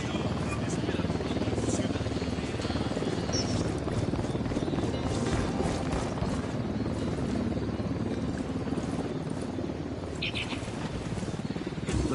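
A helicopter from a PS4 video game drones steadily and loudly throughout, its rotor wash buried in a dense, unbroken wall of game noise with no clear pauses.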